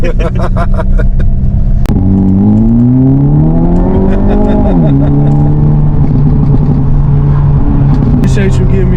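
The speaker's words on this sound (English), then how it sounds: "Appreciate you giving me a ride on your Hyundai Elantra N today." A Hyundai Elantra N engine pulls hard during a ride, rising in pitch through gears with a shift break midway, then settling into a steady drone, heard loudly from inside the car.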